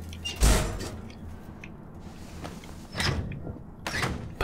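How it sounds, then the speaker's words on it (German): A door opens in the video game Alien Isolation with a sharp mechanical hiss and thud near the start, followed by fainter whooshing slides and clunks later on. No one speaks. "können wir doch die Tür schon aufmachen"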